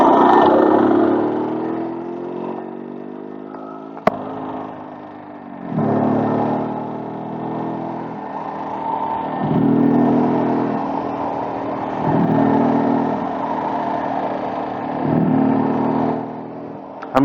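A 1995 Yezdi Roadking motorcycle ridden through Bengaluru at night, its engine loud and close, rising repeatedly in pitch as it revs up through the gears, with brief dips between pulls.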